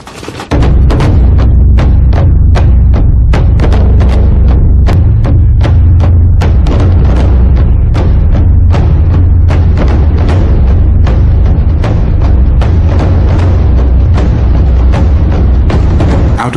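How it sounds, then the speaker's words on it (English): A heavy bear crashes down onto the forest floor, a series of deep, loud thumps and thuds repeating steadily over a low rumbling bed, close and dramatic, with no voices. "The beast collapsed to the ground with a thud."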